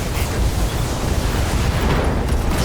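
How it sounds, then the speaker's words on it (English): A mech blows apart after an SRM ammo hit in the video game Battletech, a loud, sustained rumbling explosion that fills the whole moment with dense, roaring blast noise. "SRM, ammo Mech explosion."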